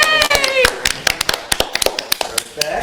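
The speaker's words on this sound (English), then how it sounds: "Let me get some applause." Scattered hand claps from a small group, a few sharp irregular claps following a brief cheering voice at the start.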